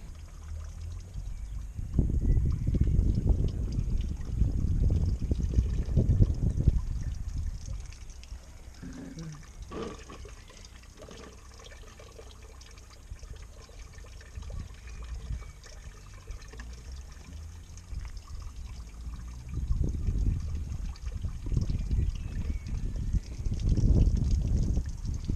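Water flushing through the rusty cooling system of a classic car, surging in two louder gushing spells with a quieter trickle between, and a voice speaking faintly at times.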